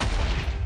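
A fireball explosion in the Minecraft video game gives a loud, dense burst of booming noise that fills the whole short moment with no speech over it.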